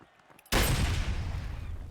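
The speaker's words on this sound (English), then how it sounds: "that nade was close for comfort here" A grenade blast in a competitive online shooter match, a sudden loud boom after a quiet moment that stays as a long rumbling roar, close and full.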